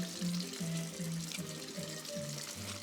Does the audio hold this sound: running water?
yes